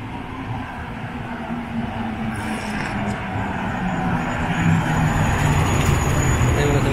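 Heavy traffic streams along the Mumbai–Goa highway, a continuous low roar of passing cars and trucks that swells gradually louder, with faint talk beneath it.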